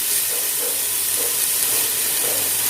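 Two tablespoons of crushed garlic fry in oil for fish biryani, a dense continuous close sizzle and hiss with faint stirring beneath.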